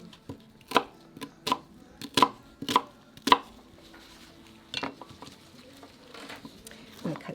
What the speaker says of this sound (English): So I'm just rough chopping it.